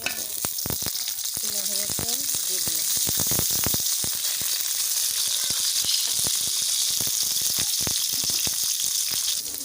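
Onion and green chilies frying in hot oil in a kadai, a loud steady sizzle with sharp crackles and pops scattered throughout, close up and continuous.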